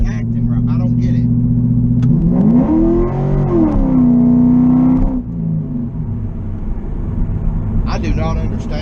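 Car fitted with a new RPM transmission and TCI torque converter downshifting under throttle, the engine note surging and climbing loudly for a few seconds before easing off, with someone talking before and after.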